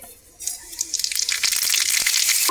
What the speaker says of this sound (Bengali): তেলের মধ্যে দিয়ে দেব মৌরি আর কালো জিরে